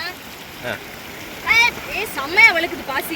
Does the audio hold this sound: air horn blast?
no